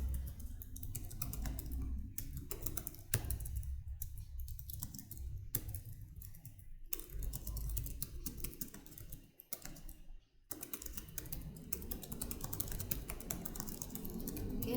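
Computer keyboard typing goes on throughout, close and fairly quiet, with bursts of rapid keystrokes broken by short pauses and no voice.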